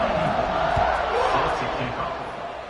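A football stadium crowd roars steadily before a kickoff, a broad sustained wall of cheering that fades slightly toward the end, with a commentator talking over it.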